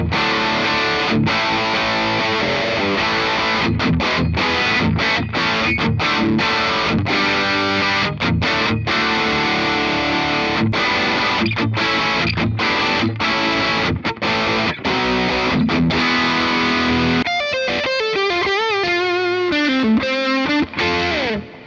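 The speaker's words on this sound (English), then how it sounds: "Where's our dirty tones? Nice and crunchy." Loud, crunchy distorted chords on a 2010 Gibson Custom Shop 1974 Randy Rhoads aged Les Paul, strummed in choppy bursts, ending with a sustained, wavering bent note.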